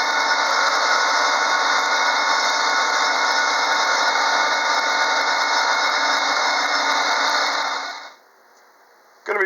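A wood lathe spins a deer antler pen blank, producing a loud steady whine and hiss that runs unchanged for about eight seconds before cutting off abruptly, followed by near silence and a brief return of noise.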